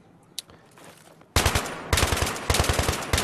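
Gunfire in the game Battlefield 3 as mailboxes are shot open: after a quiet lead-in with a faint click, loud rapid bursts of automatic fire start, a long burst followed by two more bursts of rapid shots close by.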